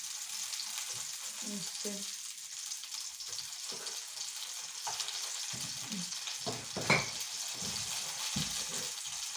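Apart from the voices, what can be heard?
food frying in a pan with a little oil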